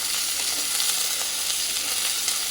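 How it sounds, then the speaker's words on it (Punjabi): Bitter gourd (karela) pieces being roasted in a pan on high heat for a curd-karela dish, giving a loud, steady, close sizzle of frying with no talking. "ਕਰੇਲੇ ਪਹਿਲਾਂ ਆਪਾਂ ਭੁੰਨ ਲਾਂਗੇ"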